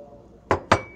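A spoon clinks twice against a glass of green tea as sugar is stirred in, two sharp, close taps about a fifth of a second apart over quiet room tone.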